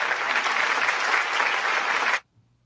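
A canned hand-clap sound effect triggered on a pad: a dense burst of applause-like clapping that runs for about two seconds and cuts off abruptly into silence.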